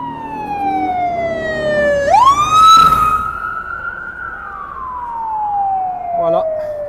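A police car siren on the Las Vegas Strip wails loud and close, its long tone sweeping down, jumping up sharply, then gliding slowly back down over several seconds, with street noise underneath.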